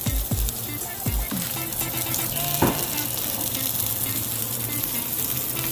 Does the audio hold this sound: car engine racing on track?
no